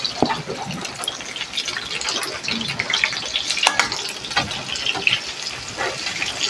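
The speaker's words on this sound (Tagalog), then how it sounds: "gisahin mabuti ang bawang at sibuyas, pero huwag hayaang masunog po ang bawang" Garlic and onion sauté in a pan while cooking pinakbet vegetables, giving a steady, busy sizzle with scattered crackles and pops throughout, close and moderately loud.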